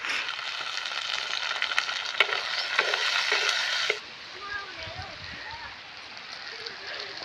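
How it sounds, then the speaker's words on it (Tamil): Tomatoes, curry leaves and garlic sauté in a hot pan with a loud, steady sizzle that drops to a softer, quieter fry halfway through, with a voice faintly present. "இதெல்லாம் போட்டு நல்லா வதக்கிக்கலாம்"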